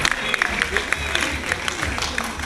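Audience applause at a film festival award ceremony in Kurukshetra: a steady wash of many hands clapping throughout, fairly close and even in level, with sharper individual claps standing out.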